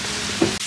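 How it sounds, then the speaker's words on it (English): Steaks frying in a pan at home, a steady close sizzle and crackle of fat with a brief louder spit midway and a short dip near the end. "We're just making steaks right now."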